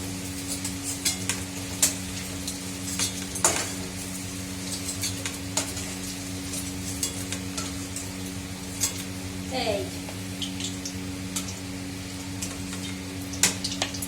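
Paneer being lifted out of hot frying oil, with a steady sizzle under clinks and scrapes of a metal utensil against the pan, plus a faint hum of background speech.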